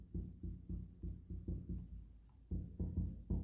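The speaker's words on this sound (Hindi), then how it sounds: "तो लिखेंगे यहाँ पे" A pen writes an accounting entry on paper in quick, rhythmic strokes, close and fairly quiet, with short scratchy bursts repeating about twice a second and no talking.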